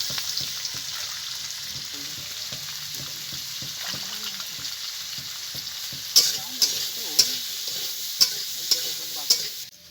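Potatoes sizzle steadily in hot oil with salt and turmeric while being stirred, a continuous frying hiss joined late by a series of sharp spatula scrapes and clinks against the pan.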